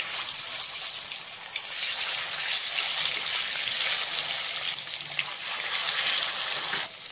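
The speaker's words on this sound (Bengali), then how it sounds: "বাকি মাছগুলোকে আমি এইভাবে ভেজে নেব" Pieces of katla fish frying in hot oil give a steady, close, bright sizzling hiss that runs unbroken throughout, with no voices.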